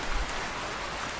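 Steady cartoon rain falls in a brief, even wash of hiss with no pauses, alone and fairly loud.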